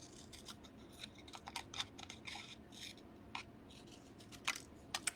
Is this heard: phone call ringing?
no